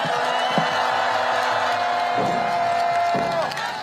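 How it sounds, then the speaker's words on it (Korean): Crowd noise at a Seoul campaign rally, a broad wash of cheering and clapping held steady under a sustained tone, with a few sharp thumps breaking through before it eases off at the end. "이인재 전 경기도지사께 다시 한번 큰 박수 부탁드리겠습니다."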